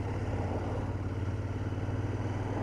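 Royal Enfield Interceptor 650 motorcycle ridden slowly in first gear, a steady low engine throb with continuous mechanical clatter and road rumble, close and even throughout.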